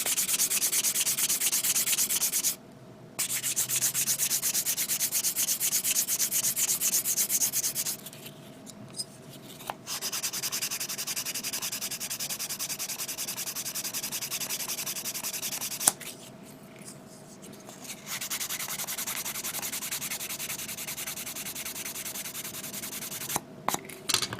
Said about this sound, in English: And I'll use the 400 grit. We'll sand it down a bit.